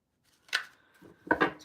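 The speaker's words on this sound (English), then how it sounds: "Let me do another shuffle here." A deck of tarot cards is shuffled quietly in two short, crisp bursts separated by a brief pause.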